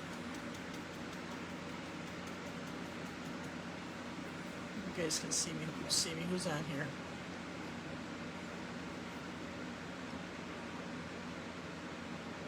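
A dryer blows air over wet paint on a canvas, a steady, even whooshing rush that runs the whole time at low level, while a person talks nearby.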